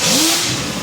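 A Chevy engine cranks over and revs briefly after being started with a remote starter, a short loud rising engine sound close by with no talk.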